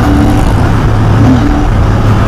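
A Royal Enfield Interceptor 650 motorcycle pulls in third gear, a steady, loud engine drone with wind rush heard from the rider's position, no voices.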